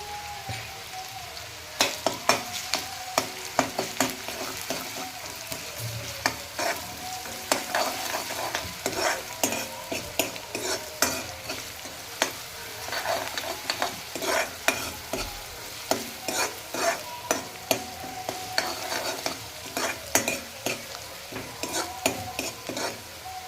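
Onions sautéing with salt in a pan, a steady soft sizzle under repeated scraping and stirring strokes of a spoon against the metal, close and fairly busy throughout with no voices.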